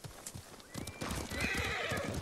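Rapid hoofbeats of a galloping horse in the video game Ghost of Tsushima, with a loud whinny rising midway, all close, with no talk.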